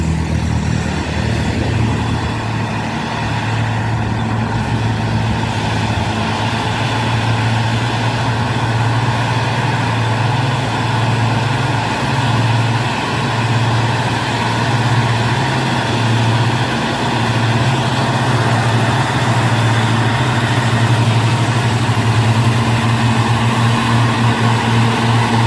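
Heavy truck engines labouring uphill while a vehicle overtakes between two trucks, one of them a tanker, on the Bukit Kodok climb; a steady, loud, close diesel drone with low rumble runs throughout without pause.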